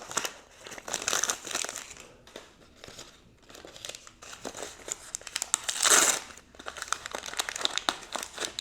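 Tiny plastic packaging for miniature diner food crinkles and tears steadily up close, with a louder rip in the middle and continuous rustling throughout.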